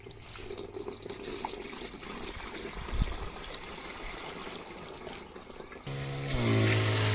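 Water rushing and splashing steadily close by from a pump with a newly fitted motor at 135 feet, humming underneath; the flow swells louder and a mechanical whine rises near the end.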